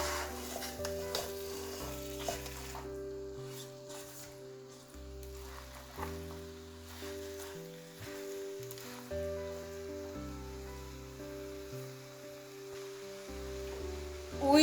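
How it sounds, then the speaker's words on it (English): Cube-shaped onions go into a lamb chops curry pan and get stirred, giving a soft, steady sizzle and scraping that stays faint beneath tonal background music. "Let's add our cube-shaped onions. Give another good mix."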